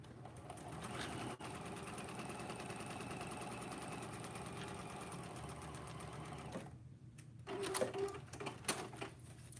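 Sewing machine stitching a quarter-inch seam at stitch length 2.5 while piecing fabric scraps, a steady close whirring hum running throughout before easing off, followed by a few brief louder mechanical clicks near the end.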